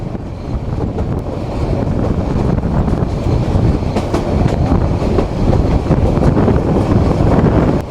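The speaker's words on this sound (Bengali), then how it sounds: "আন্তনগর কক্সবাজার এক্সপ্রেস সে এখন তার যাত্রার সর্বোচ্চ গতি নিয়ে ছুটছে রাজধানী ঢাকার কমলাপুর রেলওয়ে স্টেশনের উদ্দেশ্যে" Cox's Bazar Express intercity train running at full speed, a loud, steady roar of wheels and rushing wind with faint clickety-clack rhythm throughout.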